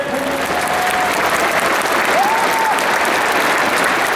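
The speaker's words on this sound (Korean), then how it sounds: "경산 종법사님께서 입장하자 교도들의 힘찬 박수가 터져나왔습니다." Won Buddhist believers applauding loudly in a vast crowd at a centennial commemoration rally, a continuous roaring wall of clapping that holds steady throughout, with faint voices and brief tones mixed in.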